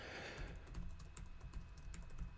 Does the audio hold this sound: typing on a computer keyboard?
yes